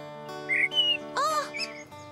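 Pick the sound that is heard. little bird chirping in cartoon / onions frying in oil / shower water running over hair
little bird chirping in cartoon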